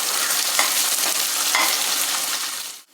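Onions and garlic fry in a pan for a South Indian lunch box rice dish, a loud, continuous, hissing sizzle with a couple of faint stirring scrapes, close up, cutting off abruptly at the end, no voices.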